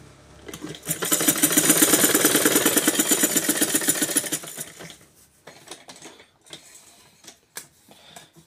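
A domestic sewing machine runs in a fast, steady stitching burst for about four seconds after its bobbin case tension screw is loosened, then stops, followed by scattered clicks and handling noises.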